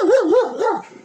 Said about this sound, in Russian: Мы слышали, собака лаяла.